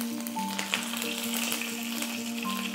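Mustard seeds and cumin sizzle in hot oil in a pan, a continuous close crackling fry with small pops and spatters throughout.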